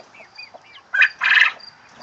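Rescued quail gather at a feeder with proper quail feed, giving a few soft close chirps followed by two louder raspy calls, short and alone with no talking.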